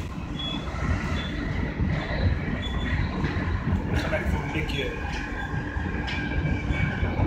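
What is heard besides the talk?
inside a moving train to Utrecht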